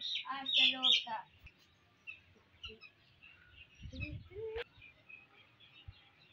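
Chicks of several poultry breeds chirping, with a burst of loud high peeps at the start followed by scattered fainter cheeps and some shuffling and handling noise.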